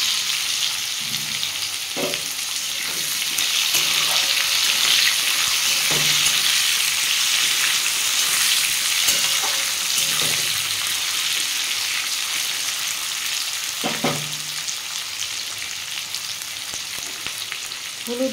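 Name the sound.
onion and tomato frying in oil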